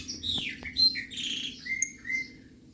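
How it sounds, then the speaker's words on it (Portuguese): A chopi blackbird sings outdoors in light drizzle, a run of clear whistled chirps and short rising calls at moderate distance, coming in irregular bursts over a faint steady background with no talking. "O pássaro preto tá cantando, tá feliz."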